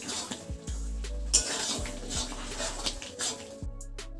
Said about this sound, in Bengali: বেশ কিছুক্ষণ এইভাবে নাড়াচাড়া করে নিলাম